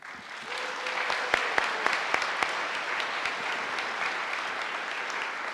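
Audience applause fills a graduation ceremony hall at the Estonian IT College, steady and dense from start to finish, with a few sharper individual claps standing out near the start.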